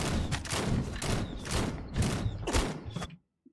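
Gunfire in the video game Vampyr: several heavy, booming shots in a rapid irregular series, each followed by a short decaying echo, then silence.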